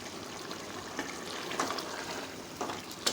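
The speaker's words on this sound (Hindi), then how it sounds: "खूब अच्छी तरह से मिक्स कर लें।" Mutton gobhi gosht being stirred in a pan after garam masala goes in: a soft, continuous sizzle of oil with faint scraping and clinks, quiet and close.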